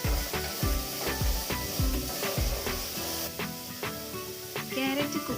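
Chopped carrots fry in hot oil over a high flame for vegetable fried rice, giving a steady loud sizzle and hiss with repeated knocks of stirring and tossing.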